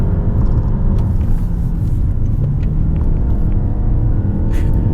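A 2019 Toyota Camry, front-wheel drive with 181 PS, is driven through corners, heard from inside as a steady low engine and road rumble with no talking.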